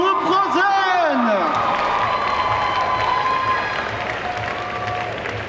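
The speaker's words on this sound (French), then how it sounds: "on applaudit bien fort le groupe Frozen" A convention crowd applauds a cosplay group on stage at a Made in Asia 2023 costume contest. Loud, dense clapping and cheers follow the host's brief voice and keep going throughout, fading slightly toward the end.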